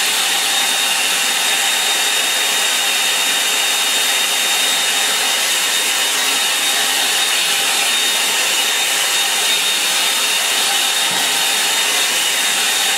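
A hair dryer blows on a watercolour painting, a loud, close, continuous rushing whoosh with a faint motor whine that stays constant throughout, with no voices.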